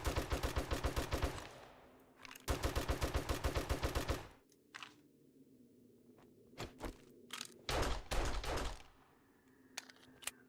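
Bursts of 9mm pistol fire in the survival game 7 Days to Die: two long, rapid volleys of loud shots, then scattered single thuds and short bangs over quieter ambient noise.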